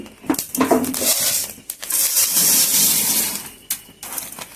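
Fenugreek seeds being dry-roasted in a pan for chilli masala powder, with a dense, continuous scraping and rattling of seeds stirred against the metal, close and fairly loud, broken by a few short clinks and pauses.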